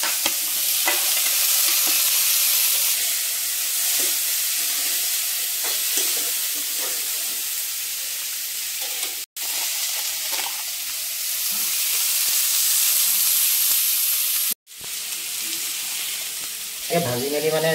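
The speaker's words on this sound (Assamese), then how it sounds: "ফ্ৰাই হৈ যাব" Steady, loud sizzling fills the clip as onion paste and cumin fry in a pan for an Assamese shol fish curry. A utensil scrapes and stirs through the oil throughout, with two brief dropouts and a faint voice near the end.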